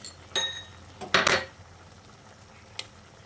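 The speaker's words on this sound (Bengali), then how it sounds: "এবার এই ভাজা বড়িটা দিয়ে আবারও ভালো করে মিশিয়ে নিচ্ছি।" A few clinking scrapes of a spoon against a pot as bottle gourd curry with fried lentil dumplings is stirred and mixed, with a short burst of rattling in the middle.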